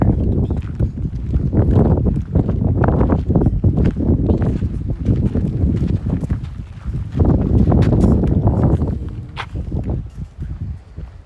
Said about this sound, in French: on entend le vent maintenant